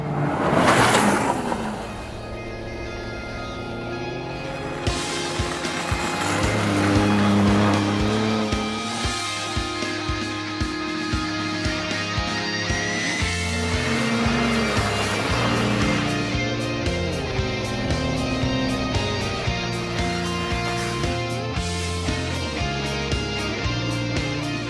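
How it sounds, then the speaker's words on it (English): A big vehicle driving and sliding across the surface of a lake, its engine droning steadily throughout with bursts of tire squeal and skidding, loud and continuous without talking. "For such a big vehicle, it's incredibly easy to manage. We're basically dancing on top of a lake right now."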